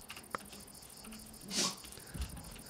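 A dog in a medieval colony-building game gives a few brief, faint yelps or whimpers over a quiet background, with one brighter burst in the middle.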